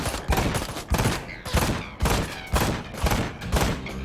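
Rapid gunfire in Ride to Hell: Retribution, loud bursts of shots coming in quick clusters about every half second, close and punchy throughout.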